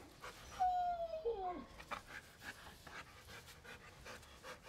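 A dog pants quietly in quick, soft breaths, with a brief whine or yip near the start, all fairly faint and close by.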